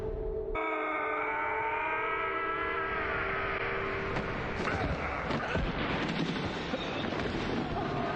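A loud wailing ambulance siren in the video game Deadly Premonition sweeps up and down continuously, joined midway by rumbling engine-like noise and some muffled voices.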